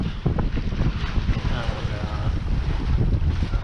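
A sailboat under way in the wind on the approach to Hudiksvall, heard as loud, steady wind rush buffeting the microphone with low rumbling water noise beneath, continuous throughout.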